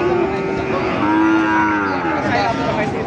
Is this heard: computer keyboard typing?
no